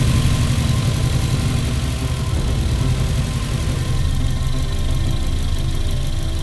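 A turbocharged Subaru engine idles before a drag race, a loud, close, continuous rumble with a fast, uneven lumpy pulse and a faint high whine.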